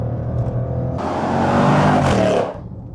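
A 2021 Jaguar F-Pace SVR SUV accelerates hard from inside the cabin, engine note rising to a loud, rasping roar before easing off near the end.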